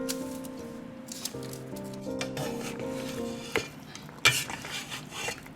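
Okra soup being stirred in a pot with a metal utensil, with steady scraping and clinking against the pot and a few sharper knocks near the end, close by, with no talking.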